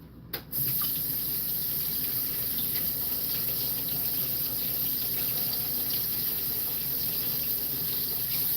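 Water runs steadily from a kitchen tap into a sink, a continuous close splashing rush that starts after a brief clatter and carries on unbroken.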